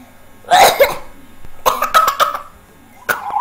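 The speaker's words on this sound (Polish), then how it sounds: "Przepraszam, mam kaszel." A run of harsh, throaty coughs in three separate bursts, close and loud, with short quiet gaps between them.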